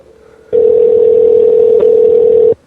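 Steady telephone ringback tone heard while calling someone, starting after a half-second of quiet and holding loud and unbroken for about two seconds before cutting off.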